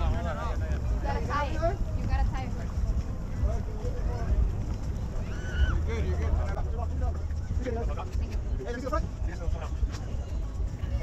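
Boat engines rumble low and steady while a boat anchors at the Islamorada sandbar, mostly under continuous nearby talking, with some wind noise.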